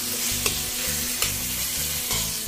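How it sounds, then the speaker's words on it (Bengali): Marinated mutton liver sizzles in spice paste in a pan while a spoon stirs it, giving a steady close frying hiss broken by a few sharp scraping strokes. "মশলাটা কষিয়ে নেবার পর এর ভেতর দিলাম ম্যারিনেট করা মেটে। আরো 5 মিনিট কষিয়ে নিতে হবে।"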